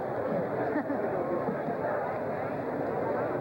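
Steady crowd babble at a gathering of many people waiting to see someone, a dense continuous murmur of overlapping voices close around without pauses.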